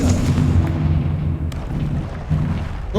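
A Confringo spell explodes in Hogwarts Legacy as a loud, low rumbling blast that fills the whole moment, with a brief crack partway through and a trailing effect at the end.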